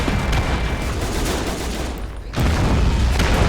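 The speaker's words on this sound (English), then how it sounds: "Tremendous arty support there." Dense, loud artillery and gunfire in an interwar-era strategy war game set in the 1933 Chaco War, a continuous roar of overlapping blasts and explosions with a brief dip before the barrage resumes.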